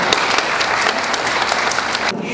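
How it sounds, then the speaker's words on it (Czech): Loud, sustained clapping from a crowd of parents and children at a kindergarten children's carnival in Zátor, a steady dense patter that continues without pause before cutting off. "Poprosím o velký potlesk."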